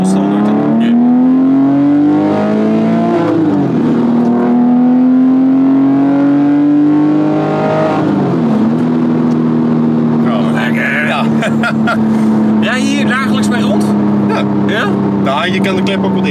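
A Porsche 911 Carrera S with aftermarket headers, catalytic converters and a valved exhaust revs and settles, holding a strong engine tone that climbs and falls. Voices talk over it later on.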